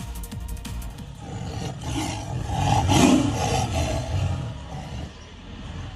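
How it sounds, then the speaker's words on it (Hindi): Two tigers clash and growl at each other beside stopped safari vehicles in Ranthambore reserve, a loud, rumbling roar that swells to a peak near the middle and persists over engine-like background noise. "बाघ एक दूसरे से गुर्रा रहे हैं"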